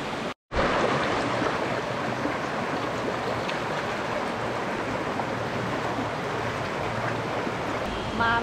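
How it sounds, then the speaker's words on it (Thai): Steady rushing spring water flows continuously at Doi Inthanon after a brief dropout at the start, a broad, even wash of sound with no voices. "น้ำที่ไหลออกมานี้เป็นน้ำที่ศักดิ์สิทธิ์ค่ะ"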